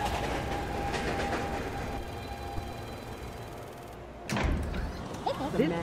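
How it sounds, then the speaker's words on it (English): A New York subway 1 train, Manhattan-bound, sits in a station with a steady low rumble and hum, then a sharp shift as doors or brakes change the sound, followed by a few clatters and a brief announcement-like tone near the end. "This is a Manhattan-bound 1 train."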